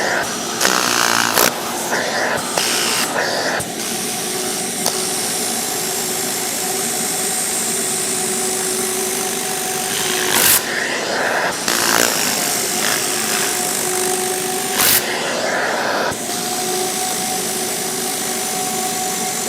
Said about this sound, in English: I just turn the vacuum on.